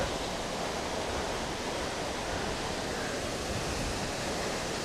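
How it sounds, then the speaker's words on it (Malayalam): Water drops from a great height at a forest waterfall near Kadappara, a dense, unbroken roar of rushing water that stays loud and even throughout, with no voices. "അപ്പോൾ കാണുന്നുണ്ട് നമുക്ക് ഒരുപാട് മുകളിൽ നിന്നാണ് വെള്ളം വീഴുന്നത്."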